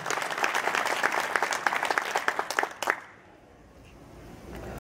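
A seated audience bursts into sustained clapping for a donor who gave money in a sealed envelope. The applause is close and lively for about three seconds, then cuts off into near quiet.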